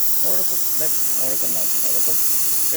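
The steam wand of a Breville Barista Express espresso machine hisses loudly and steadily, a constant bright rush of steam, with a person talking over it.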